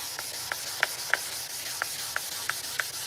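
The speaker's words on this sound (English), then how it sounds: "It's the hand sanding." Hand sanding on a Vauxhall Corsa bonnet during headlight restoration: a soft continuous rubbing with repeated short scraping strokes, roughly three per second, close and fairly quiet.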